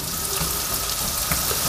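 Pumpkin pieces fry in a pan with a steady, loud, hissing sizzle that continues without a break and has no talking over it.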